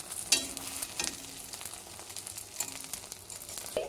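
Egg fritter curry fries and is stirred in a pan, a close, moderate sizzle broken by sharp spatula scrapes and clinks at irregular intervals.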